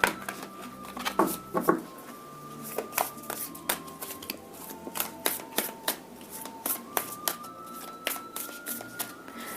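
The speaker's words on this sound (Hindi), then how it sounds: "Okay, let me shuffle the desks." A deck of tarot cards is shuffled close by, producing a run of quick riffling flutters and soft slaps in an irregular rhythm against quiet background.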